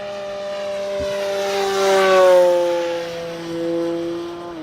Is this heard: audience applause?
no